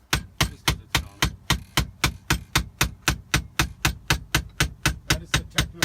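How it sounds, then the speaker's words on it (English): A hammer repeatedly strikes a Snap-On screwdriver, about twenty sharp, evenly spaced metallic blows in a fast, steady rhythm, loud and close. "Only I'm authorized to hit snap-on screwdrivers with a hammer."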